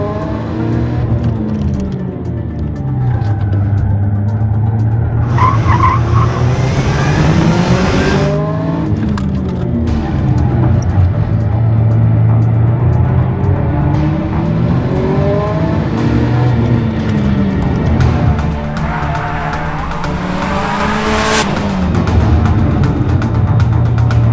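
A Subaru Impreza WRX STI driven hard around a race track, its engine roaring continuously with rising and falling revs, throttle blips and downshifts under braking, loud and close from onboard.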